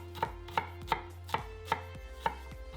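A knife chopping onion finely into brunoise on a cutting board, six or seven crisp evenly spaced thuds close by, no voices.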